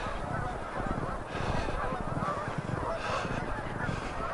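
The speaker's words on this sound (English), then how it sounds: "Mostly geese, but definitely some others." Many geese honking together outdoors in a busy flock, with other birds mixed in, a dense steady chorus that stays fairly loud and continuous throughout.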